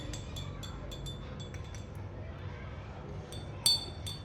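A spoon clinks against a glass while a drink is mixed, a quick run of light, bright taps in the first two seconds and one sharper ring later, close over a quiet room hum.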